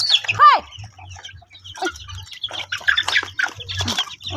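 Pet chickens cluck and squawk close by, starting with one loud sharp squawk and followed by a busy run of clucks, with faint voices in the background.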